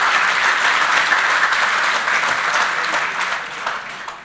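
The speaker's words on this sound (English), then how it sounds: "Let's give it a round of applause for Harry Sue, another pit master." An audience at a 2014 Sam's Club barbecue finals event applauds steadily, a dense, even wash of clapping that holds for several seconds and fades slightly toward the end, with no talking over it.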